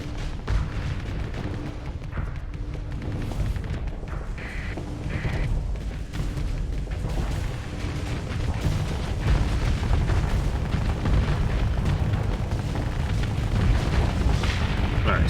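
Weapons fire and explosions hit a station in the space game Starsector, producing a dense, continuous rumble of booms and rapid blasts that grows slightly heavier over time, with no speech.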